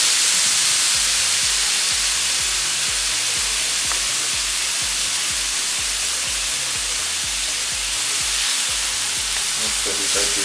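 Beef samosa filling frying in oil in a pan, a loud, continuous sizzling hiss close up, with faint scraping and stirring under it.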